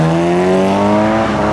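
A modified BMW M3 accelerates hard out of a car meet on a slippery exit. Its engine note climbs steadily in a loud, close, rising whine, alone.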